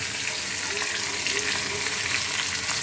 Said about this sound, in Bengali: হায় হায় মাছে আবার তেলে ভাজা